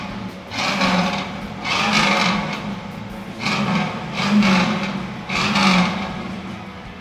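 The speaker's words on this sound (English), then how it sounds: "I will fire it up for you so you can hear it." A 1967 Chevrolet Camaro Super Sport in Bolero red with a matching-numbers engine, running and revving in repeated surges, four loud swells rising and falling over a rough idle, close by.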